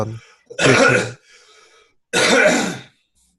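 Two harsh, forceful coughing bursts, each about half a second long, separated by a short pause with a faint breath between them, close and loud.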